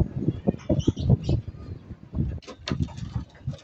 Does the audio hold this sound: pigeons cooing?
yes